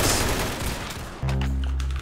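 A video game gun fires, first as a rapid crackling burst, then as a loud, steady, droning volley that runs for almost a second and cuts off. It sits close and loud, with no talking over it.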